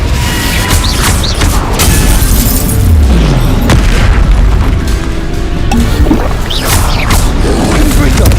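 The Confringo fire spell in the Hogwarts Legacy video game sounds as a dense, loud, booming blast with rumbling crashes and debris, layered over continuous combat noise and the voice calling out spells.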